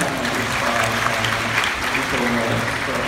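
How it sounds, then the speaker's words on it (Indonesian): Audience at a ghost-themed talk show applauds on cue from a guest, a continuous crowd clapping close and fairly loud, with a faint murmur of voices mixed underneath. "Tepuk tangan dulu dong untuk kita."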